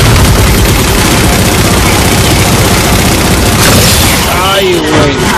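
Mounted turret gunfire from a Warthog in Halo 4 rattles on in dense, loud bursts with booming impacts throughout, joined near the end by whooshing effects, as players talk over the game.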